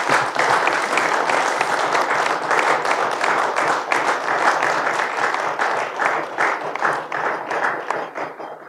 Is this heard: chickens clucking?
no